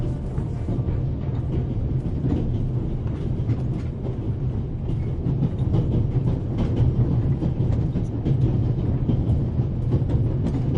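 A moving train rumbles steadily in The Raven video game, heard from inside a passenger car near the coal tender and engine, with a continuous low roll and faint rhythmic clatter throughout and no talk.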